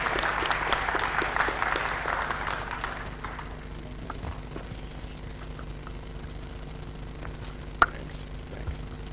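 A conference audience at a lightning-talk session claps in a dense burst that thins out and fades after a few seconds, leaving a steady low room hum with one sharp click near the end.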